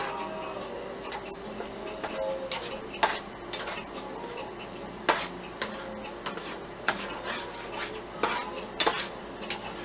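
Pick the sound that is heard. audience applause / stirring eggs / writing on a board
stirring eggs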